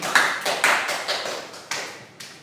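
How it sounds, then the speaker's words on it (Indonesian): Classroom applause for a student, a short run of sharp, evenly spaced claps that each fade quickly, heard fairly close with no talking over them. "Beri aplaus untuk Reno."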